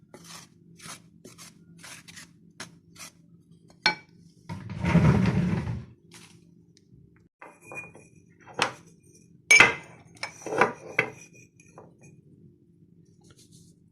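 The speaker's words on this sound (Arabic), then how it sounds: "وهقلبه كويس البيكنج باودر في الدقيق" Scraping and rasping of a utensil stirring baking powder into flour in a bowl, with occasional clinks against the bowl and a longer rough swish in the middle, quiet between strokes.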